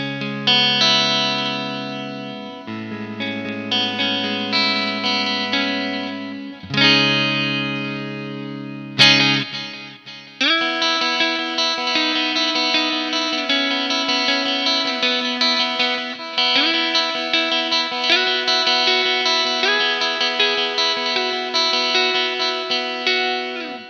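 Clean electric guitar on the neck pickup through compressor, delay and reverb pedals, playing chords and arpeggiated notes with a compressed, even attack and trailing delay echoes and reverb washing behind it; no voices.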